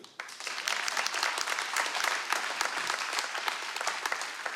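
Audience applause at a Ukrainian comedy show during a stand-up monologue, a dense, steady wash of many hands clapping that begins abruptly and holds at an even level throughout.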